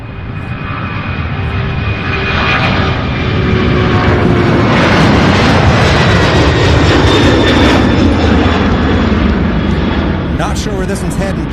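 A Boeing 747 jet taking off at an airport builds into a loud, roaring rumble that swells to a sustained peak and then eases, with a person talking over the engine noise.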